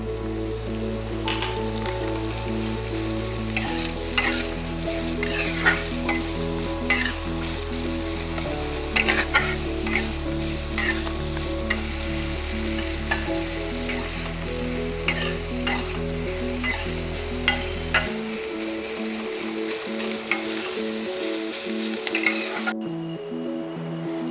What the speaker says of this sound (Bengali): এবার আমাদের পেঁয়াজগুলো ভাজা হয়ে গেছে